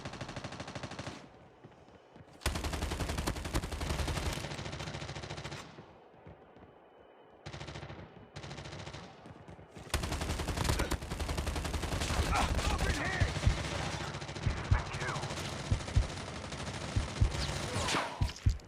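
Gunfire in the Call of Duty video game, classic mode on the Alcatraz map: loud bursts of rapid shots and sharp cracks in several stretches, separated by short quieter gaps.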